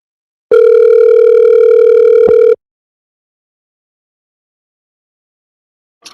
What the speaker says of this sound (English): let's call Mikael